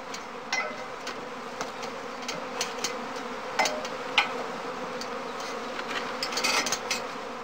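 A dense, continuous buzz of a swarm of honey bees at a heath skep apiary fills the air, with individual insects droning past closer now and then.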